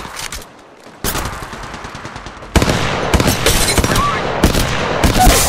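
Automatic weapon fire in the mobile shooter Apex Legends Mobile, rapid loud bursts that start after a quiet moment and grow into a thick, continuous volley of close shots.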